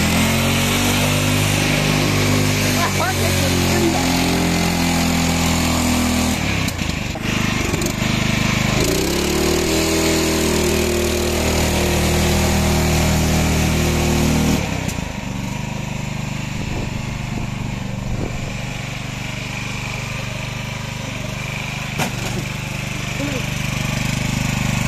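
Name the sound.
small engine vehicle revving at full throttle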